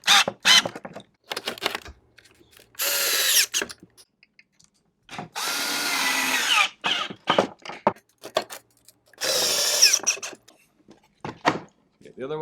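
A power drill drives screws into skateboard hardware in several short whirring bursts of a second or two each, close up, separated by clicks and handling noises while a person talks.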